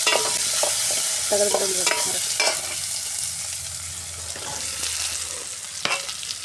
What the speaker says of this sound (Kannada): ಈಗ ನೋಡ್ರಿ ಇದನ್ನೆಲ್ಲನೂ ಫ್ರೈ ಮಾಡ್ಕೊಂಡು